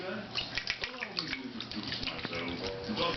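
Tap water runs steadily to fill a bath for Gus, a Quaker parrot, a continuous close splashing hiss with a person talking over it throughout.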